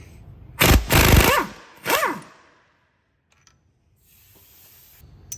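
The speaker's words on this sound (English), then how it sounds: "Obviously with an impact driver, it should just come straight out." An impact driver hammers at a bolt on an Audi A3 outer CV joint in two loud, rattling bursts close by, each ending in a whirring spin-down, followed by near silence with a faint hiss returning.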